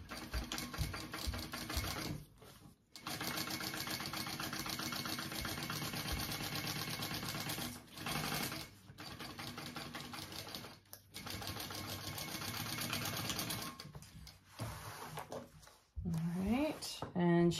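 A sewing machine runs in long bursts while stitching a handbag seam, its steady mechanical whir broken by short pauses, with a speaking voice over parts of it.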